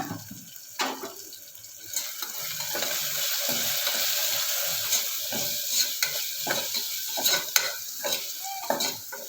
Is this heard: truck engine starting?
no